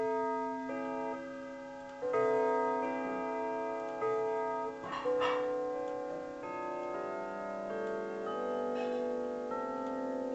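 A Sligh triple chime clock's metal chime rods ring out a slow scale in C, each struck tone sustaining and overlapping the next, clear and resonant with no talking.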